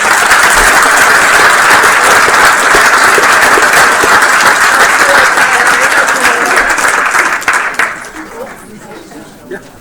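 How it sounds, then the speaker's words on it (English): Loud, sustained applause from a board meeting audience, dense clapping mixed with crowd chatter that fades away over the last couple of seconds. "So let's give them a big applause."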